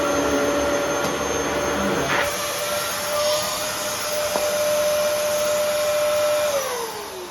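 A Dyson DC07 upright vacuum cleaner runs steadily close by, a loud continuous whine and airy roar with a few faint knocks, its pitch dropping slightly near the end.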